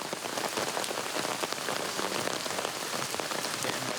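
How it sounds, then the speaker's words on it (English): Heavy rain pours steadily in the mountains of Japan, a dense, constant hiss of drops striking surfaces close by with no voices. "The rain kept coming"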